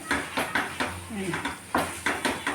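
A ladle presses and mashes gongura and brinjal chutney in a vessel, making a regular series of soft, close knocks and scrapes about every half second.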